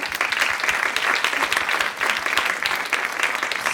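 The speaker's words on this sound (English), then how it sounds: "I would love for you all to give yourselves a round of applause, as well as Dr. Webster and Dr. Pirtle" Steady, close round of audience clapping at the end of a public health grand rounds talk on gun violence, continuous and even throughout with no talking over it.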